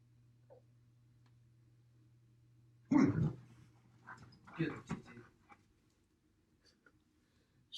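A dog in an apartment lets out a few loud, sharp barks in two short bursts against a quiet room with a low hum, followed by softer scattered sounds.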